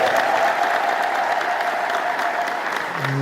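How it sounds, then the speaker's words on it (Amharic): A crowd at a graduation gathering claps continuously, with a dense, even wash of many hands that holds steady at a moderately loud level for the whole stretch. "እስቲ ደስ ያላችሁ ደግሞ አጨብጭቡ።"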